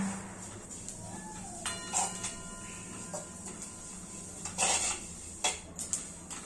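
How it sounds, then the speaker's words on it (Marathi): Sesame seeds roasting in a pan for a sweet filling, with scattered sharp pops and clicks over a quiet background hiss, plus occasional metallic scrapes of stirring. "आवाज येतोय आता नंतर उडतात हे तीळ"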